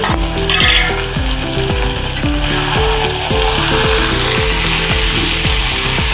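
Sliced ivy gourd fries in a pan for a Tamil stir fry while a spoon scrapes and stirs it, giving a steady sizzle under regular, rhythmic scraping strokes, close and fairly loud, with no voices.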